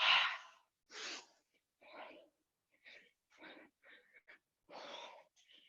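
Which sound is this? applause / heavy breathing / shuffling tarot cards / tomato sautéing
heavy breathing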